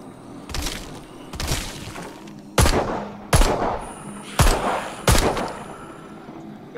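Gunfire in the VR zombie game Arizona Sunshine: six loud, sharp shots fired singly at uneven intervals, each a crisp crack with a short ringing tail over a quiet background.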